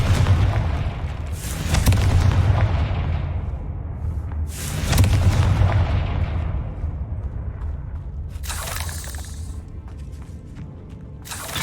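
A Confringo fire spell explodes in Hogwarts Legacy, heard as two heavy booming blasts a few seconds apart with rumbling tails, followed by a fainter crackling burst over a continuous low background rumble.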